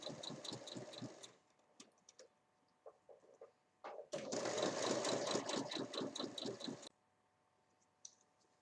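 A sewing machine stitches the bottom seam of a fabric pouch with a one-centimetre allowance, running in two close, rapid bursts of rhythmic clatter separated by a pause with a few soft clicks.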